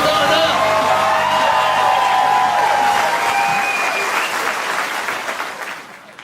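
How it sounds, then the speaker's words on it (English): A comedy club audience claps loudly for stand-up comic Bill Darnell, with scattered whoops and shouts mixed into the steady ovation before it thins and fades near the end. "Round of applause for Bill Darnell"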